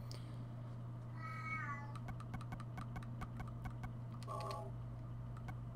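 A cat meows twice in the PlayStation game Silent Hill: a rising, drawn-out call, then a shorter one later, over a steady low hum and a scatter of sharp clicking taps.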